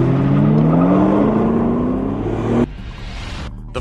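A 2006 Ford GT race car accelerates hard on a track, its engine rising steadily in a loud, close roar before cutting off abruptly, leaving quieter road and wind noise.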